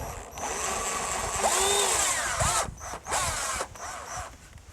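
A power drill drives screws through purlins into a composite arbor eyebrow, giving a close, steady whine with short rising motor sweeps and brief pauses between bursts.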